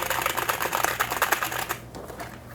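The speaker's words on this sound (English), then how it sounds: "I'll show you the old keyboard that actually came with this." Clicky typing on the stock keyboard that came with a computer in a desk setup, a fast run of sharp key clacks close up for nearly two seconds, then stopping abruptly.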